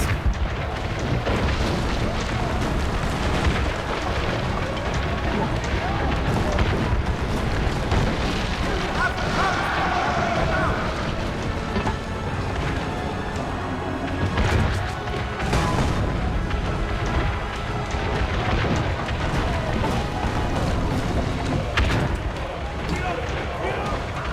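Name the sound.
cannon fire in video game Assassin's Creed Brotherhood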